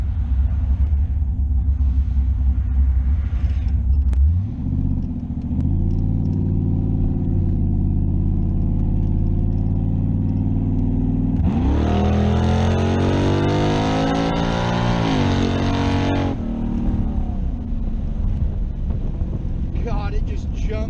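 A Chevrolet Camaro with a new cam idles with a loud, lumpy chug, then revs up sharply and holds high before dropping back to the rough, choppy idle, close and continuous throughout.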